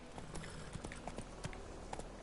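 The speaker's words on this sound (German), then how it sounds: "wie ich mein Pferd reite." Quiet rhythmic hoof clops of a horse trot along steadily over a faint background, in the video game The Witcher 3: Wild Hunt.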